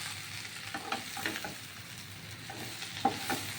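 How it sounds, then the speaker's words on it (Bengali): Pumpkin leaves with salt and turmeric fry gently in a pan, a quiet, close sizzle broken by soft stirring scrapes and a few light clicks, with no talking. "শাকের পাতাটা একটু ভেজে নেব"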